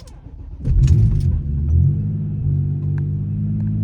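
A VW Passat that has sat unused for ten days cranks briefly and fires up, settling into a loud, steady low rumble of idling close by.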